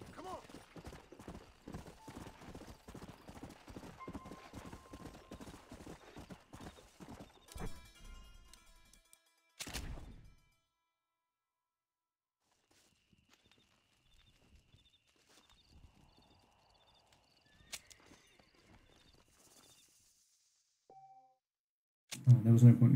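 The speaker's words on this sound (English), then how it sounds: "It sounded like a horse, but I couldn't see a horse." Clip-clopping horse hooves and a neigh in a video game, a steady rhythmic clatter at first, then a gap with faint sparse sounds and a loud burst at the end.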